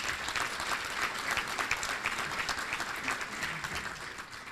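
An audience at an awards evening applauds sponsors and community supporters, a sustained wash of many hands clapping at moderate volume with a few sharper claps standing out.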